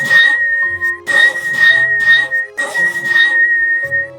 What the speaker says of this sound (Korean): 그날 밤 또다시 휘파람 소리가 들립니다.